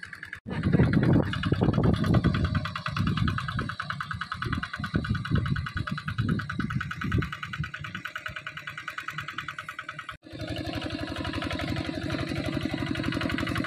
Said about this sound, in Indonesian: ada petani sedang membajak sawah dengan menggunakan traktor